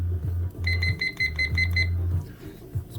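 A kitchen timer sounds a quick series of bright electronic beeps in short bursts while lower tones and clicks come through, all close and fairly loud.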